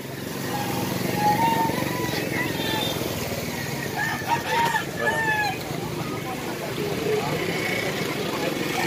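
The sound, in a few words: fighting roosters crowing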